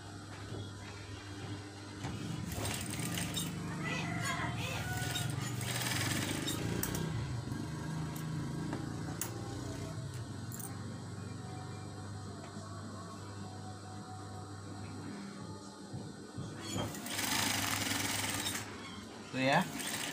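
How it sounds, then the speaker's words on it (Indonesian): Sewing machine stitching a green fabric face mask, with a steady mechanical hum and rattle that runs almost the whole time, steady at close range with brief pauses and shifts in loudness. "Lalu satu lagi kita jahit bagian ini dari tengah juga."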